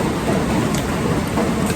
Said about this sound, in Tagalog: mahina lang yung ulan pero